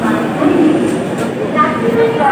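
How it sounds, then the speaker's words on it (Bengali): Duronto Express train pulling out of Bhubaneswar station, a steady low rumble and rattle of carriages heard from inside, with a voice talking over it. "আমাদের ট্রেন ভুবনেশ্বর দিয়ে ছেড়ে বেরিয়ে গেল তার পরবর্তী গন্তব্য স্থান বা স্টপেজ খড়গপুরের উদ্দেশ্যে।"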